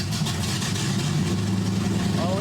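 A Ford car engine idles steadily nearby, a low continuous rumble that holds even throughout, with no talk over it.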